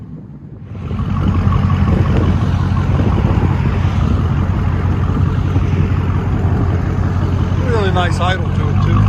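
A car engine idles with a deep, steady low rumble that holds loud and constant throughout, with some brief higher sweeping tones near the end.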